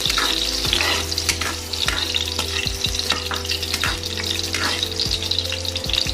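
Garlic frying in hot oil in a home kitchen pan during octopus cooking, a steady loud sizzle with scattered crackles and the occasional clink of stirring, no voices.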